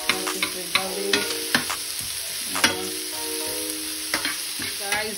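Onions and garlic fry in a pan for a stir fry, a constant crackling sizzle punctuated by repeated sharp taps and scrapes of a spoon against the pan, close and without talking.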